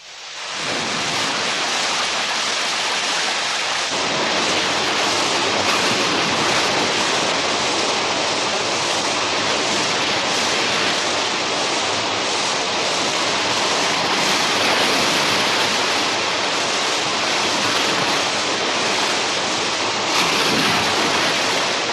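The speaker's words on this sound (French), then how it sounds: "Mais combien de temps est-ce qu'il va encore pleuvoir?" A dense, continuous hiss of heavy rain pours steadily without pause, loud and even, with no voices.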